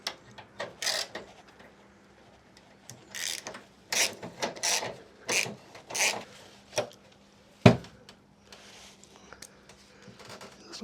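A ratchet loosens a bumper bolt on a MK2 Golf in several short bursts of rapid clicking, separated by pauses, with one sharp metallic clunk partway through, all close and fairly quiet.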